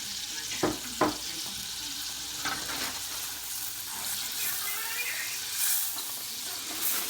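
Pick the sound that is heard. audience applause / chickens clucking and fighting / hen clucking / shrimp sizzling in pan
shrimp sizzling in pan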